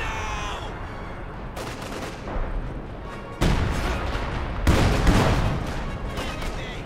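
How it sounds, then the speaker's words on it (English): An artillery barrage in the video game Company of Heroes 2, dense rumbling blasts and crackling impacts that swell louder in two waves, continuous and heavy. "Another light barrage to break up this horde."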